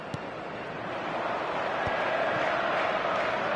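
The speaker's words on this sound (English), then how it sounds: "the crowd level has gone up a notch or 10" Stadium crowd in an eFootball match, a dense continuous roar swelling slightly louder, with a few faint knocks and thuds within it and no clear voices on top.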